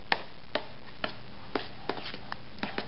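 Sea salt being mixed into a chocolate buckwheat mixture in a bowl, heard as about eight sharp, faint knocks of a utensil at a steady rhythm, each roughly half a second apart, with no talking.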